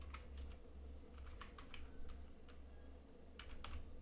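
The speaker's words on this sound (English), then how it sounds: "Just type here Fortinet" Soft, quiet typing on a computer keyboard, with short irregular bursts of key taps over a low steady hum.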